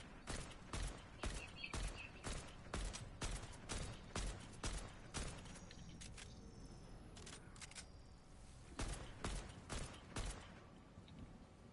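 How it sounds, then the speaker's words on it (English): Gunfire from an AK assault rifle in the Fortnite video game comes in rapid, sharp bursts of shots, crisp and close, with a pause in the middle before a few more volleys. "The AK sounds different."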